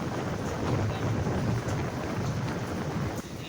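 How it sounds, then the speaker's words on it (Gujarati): Strong wind gusting at Vadhera beach, a loud broadband roar buffeting the microphone continuously with no speech. "બહુ પવન બહુ હતો।"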